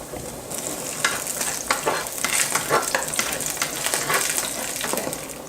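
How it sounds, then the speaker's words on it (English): Diced garlic sizzles in olive oil in a saucepan for a penne pasta primavera, a close, continuous frying hiss broken by repeated scraping bursts from stirring. "You cook the diced garlic for about 1 minute."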